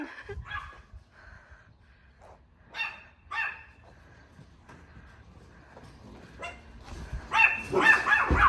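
A dog barks at a family's newly arrived 2013 Suzuki Ertiga at home: scattered close barks and yips at first, then a louder, denser burst of barking near the end.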